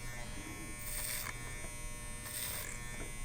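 Electric hair clippers buzz steadily at close range while cutting hair over a comb, a constant drone with two brief brighter surges as the blades pass through the hair.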